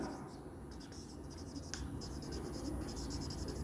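Chalk or marker strokes on a board in a classroom give a quick run of faint scratchy writing taps over a low, steady room rumble.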